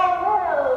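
A voice imitates a dog's bark with a single drawn-out, howl-like vocal sound, close and fairly loud, during a farm animals lesson.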